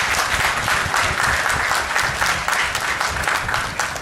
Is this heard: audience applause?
yes